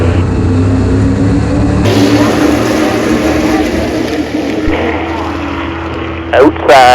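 Race cars roar past at Delaware Speedway on a green flag, engines loud and close, rising and shifting as the pack accelerates, with a voice speaking briefly over the noise.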